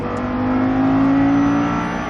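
Audi R8 on the Mettet race circuit accelerating steadily from the cabin, a continuous loud engine drone with a rising whine held for about two seconds.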